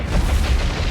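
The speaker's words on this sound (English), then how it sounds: "we got a magazine explosion." A ship's magazine exploding in the naval warfare video game War on the Sea, heard as a dense, loud, rumbling boom filling the whole short moment.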